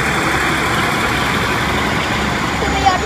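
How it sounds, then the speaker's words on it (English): Great Western Railway three-coach diesel train departing Bristol Temple Meads station for Exeter St David's in a storm: a steady, loud engine drone with broadband rumble, continuous throughout. "Parting now should be a Great Western Railway service to Exeter St"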